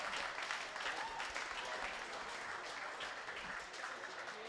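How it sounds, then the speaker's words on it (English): An audience at a National Ninja League qualifier in a gym applauds the event hosts, a steady, faint and distant wash of clapping that holds for several seconds. "I want a big round of applause for Sherry Casper and Nate Rosie"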